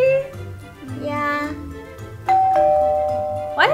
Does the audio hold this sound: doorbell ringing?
yes